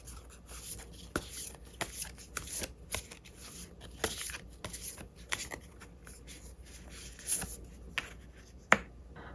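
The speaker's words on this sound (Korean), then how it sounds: "우리 여러분들을 위한 행운 좋은 카드 한 장 보면서 이야기 정리해 보도록 할게요" Tarot cards shuffled and drawn by hand, a steady soft riffling with sharper snaps and flicks scattered throughout, close and quiet with no talking.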